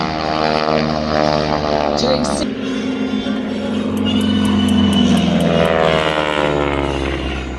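A yellow T-6 Texan propeller plane flying at the Camarillo air show, a loud droning engine roar that shifts in pitch as it passes overhead, with a crowd and announcer faintly underneath.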